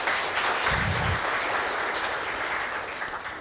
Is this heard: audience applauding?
yes